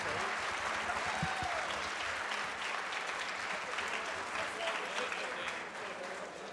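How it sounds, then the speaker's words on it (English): Sustained audience applause for racer Kosmic after a Super Mario Bros. race, a steady dense wash of clapping that holds for several seconds and eases slightly toward the end. "can we get one more round of applause for Kosmic"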